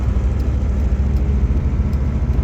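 A car pulls away with a steady, loud, close engine rumble and road whir that holds without a break, no voices over it.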